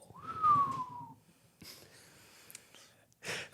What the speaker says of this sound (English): please don't whistle on this pod ever again